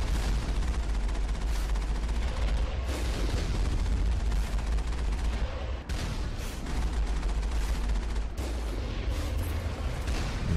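Enemy turrets fire during Mass Effect gameplay on PS3 while the Mako vehicle drives, producing dense, continuous rapid gunfire and booming impacts. The sound is loud and sustained, with a brief dip partway through and no talking.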